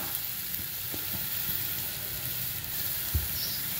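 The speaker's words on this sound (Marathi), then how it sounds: "आता हे आपण खमंग छानपैकी खोबरं लसूण भाजून घेऊया" Garlic and grated coconut roasting in a pan for a Satara-style black ghevda dal amti, giving a steady close sizzling hiss throughout with a few small pops and crackles.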